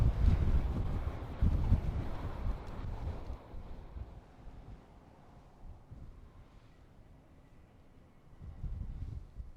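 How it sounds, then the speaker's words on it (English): Wind gusting through an old quarry cut on an open hillside, a loud blustery roar at first that eases to a steady low rush before building again near the end. "The way that this location channels the wind is really quite amazing."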